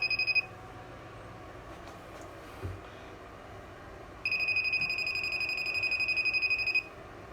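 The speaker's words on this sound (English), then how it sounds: "as soon as you get near anything that has electricity, a little alarm goes off." A voltage detector's high, steady electronic beeping alarm sounds briefly at the start, then returns after a pause near live electricity and rings continuously for a few seconds over a quiet background.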